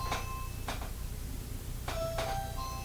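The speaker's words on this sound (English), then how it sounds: "As my doorbell starts to ring." A home doorbell chiming in a couple of short paired tones, moderately faint behind a low steady hum, with no talking over it.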